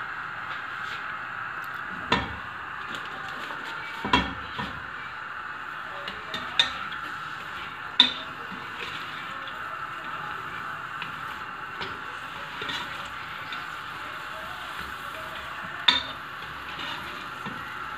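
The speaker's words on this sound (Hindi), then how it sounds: "अब इस प्याज को हम ब्राउन कर लेंगे" Onions browning in hot oil in a pan give a steady, soft frying hiss throughout. Sharp metallic clinks from a spoon or utensil against the pan punctuate it every few seconds.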